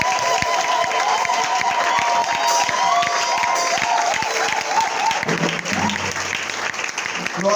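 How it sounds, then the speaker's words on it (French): A church congregation applauds and cheers for Jesus during a service, dense sustained clapping with shouts and voices mixed in, loud and close throughout. "Est-ce qu'on va tous acclamer Jésus?"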